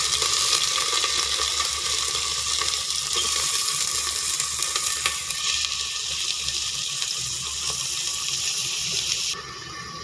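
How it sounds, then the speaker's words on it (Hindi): Khichdi dal frying in a pot with onion, green chilli and garlic gives a steady, loud wash of sizzle and bubbling, continuous for the whole stretch with no talking. "अब जो है मैं इसको 15 से 20 मिनट तक फ्राई करूँगी इसी तरह प्याज और लहसुन में"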